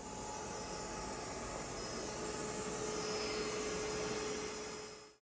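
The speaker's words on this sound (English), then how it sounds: "I had the X2 Omni vacuum my living room carpeting" An Ecovacs Deebot X2 Omni robot vacuum runs over living-room carpet strewn with rice, shredded paper, oats and parsley, its mop pads removed, giving a steady close, loud whirring drone that holds throughout before cutting off abruptly at the end.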